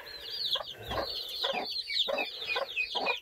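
Hens brooding chicks together on a farm cluck in quick, repeated bursts with a higher cheeping layered above, steady and fairly close with no talk.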